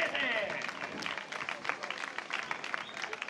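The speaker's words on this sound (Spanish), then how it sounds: "Fuerte aplauso" Applause patters steadily from a crowd at a cross-country race, moderately loud at first and then thinning slightly, heard close with no clear voices over it.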